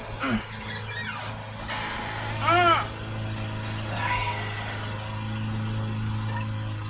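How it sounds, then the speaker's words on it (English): Lawn mower engine droning outdoors in the distance, a faint steady hum under kitchen sounds and brief squeaks, with someone talking nearby at times. "my hubby's out there working hard this morning mowing our lawn"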